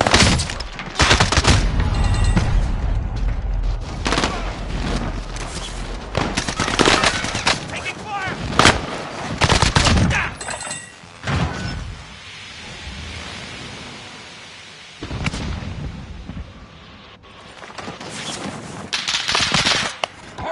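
Loud, sustained automatic gunfire from a PS4 shooter video game, with repeated heavy bursts and short pauses between them, and a voice occasionally speaking over it.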